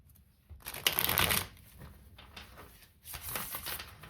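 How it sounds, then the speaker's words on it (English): A deck of tarot cards being shuffled up close, two bursts of crisp riffling a few seconds apart with softer card handling between them. "we're going to do 3 shuffles, Spirit, and then we're going to cut the deck"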